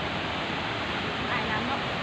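Kuang Si waterfall in Luang Prabang, Laos, roars in a dense, unbroken wash of rushing water, with a voice faintly heard beneath the steady noise.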